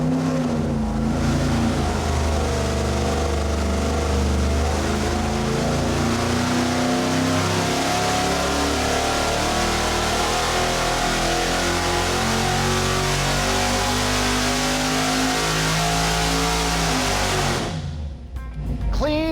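A 410ci stroker Windsor V8 with custom EFI and coil-near-plug ignition revs loudly through a full dyno pull, a steady rising roar that holds for about seventeen seconds before cutting off abruptly near the end.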